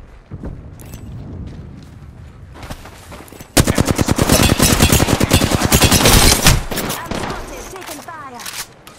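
Automatic gunfire in a squad-based battle royale shooter, with loud sustained bursts of rapid shots dominating the middle of the clip, quieter scattered shots and game effects before and after.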